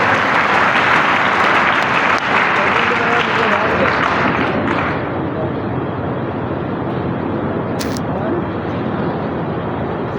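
A large audience at an International Women's Day gathering bursts into loud, sustained clapping that fills the space, holding steady before easing slightly toward the end.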